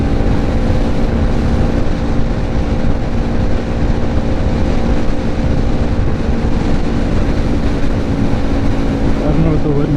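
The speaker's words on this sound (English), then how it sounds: "don't know what the wind noise is like at this speed" Wind roars past a rider on a BMW G310GS motorcycle at speed, a dense, constant rushing noise with low rumble that stays loud and unbroken throughout.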